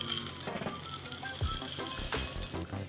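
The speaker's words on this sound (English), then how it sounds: "And then we stir it." Cookie dough with chocolate chips is stirred in a bowl, producing continuous dull knocks, scrapes and occasional light clinks of the utensil against the bowl, fairly close and steady throughout.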